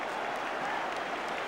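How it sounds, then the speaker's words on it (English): Football crowd at a Manchester United versus Charlton Athletic FA Cup quarter-final applauding goalkeeper Schmeichel off after his sending-off, a soft, distant wash of steady clapping with a commentator's voice over it. "the crowd are applauding Schmeichel off"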